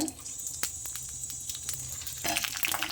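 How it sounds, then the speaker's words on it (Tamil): Curry leaves and garlic fry in hot oil in a pan, a steady close crackling sizzle with scattered pops and a brighter burst of spattering near the end. "கருவேப்பிலை நல்லா பொரிய விட்டுருங்க அதுக்கப்புறம் பூண்டு போட்டுக்கோங்க"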